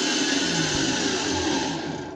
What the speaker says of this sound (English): I got enough power to run the Vitamix though